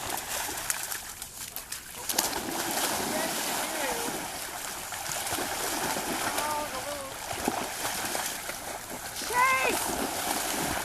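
A yellow Labrador swims fast toward the shore, and the water splashes and sloshes steadily around it for several seconds, with a few bird chirps and a person talking over it.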